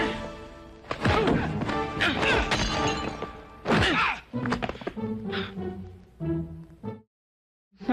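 An object shatters and crashes in a movie scene, with loud breaking impacts across the first half, followed by someone speaking in Filipino and a brief dropout near the end.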